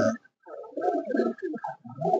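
A male pigeon in a loft of high-flying Madrasi green pigeons gives several close, throaty coos in rolling bursts with short breaks between them.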